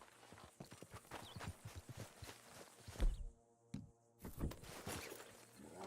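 Horse hooves clip-clop in Red Dead Redemption 2, a steady run of close, crisp hoofbeats with a brief pause midway before the steps resume, under a voice talking to a spooked horse.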